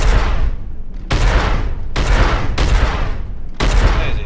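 A big gun in the Star Citizen space game fires five heavy, booming shots about once a second, each blast loud and close with a rumbling tail that fades before the next.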